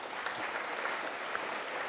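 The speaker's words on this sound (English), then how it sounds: "We'll give them a good round of applause" A round of applause from the audience at a Young Professionals Scheme launch event, steady and even clapping from a sizeable group, moderately loud throughout.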